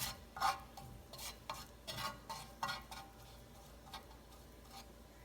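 Garlic cooks in a pan, a soft sizzle broken by a handful of scraping stirs and light clinks against the pan, close but faint and without talking.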